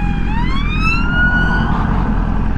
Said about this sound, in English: Might be chasing you, that police car.